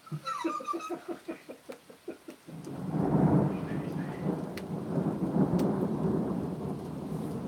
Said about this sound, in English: This thunderstorm is crazy, right?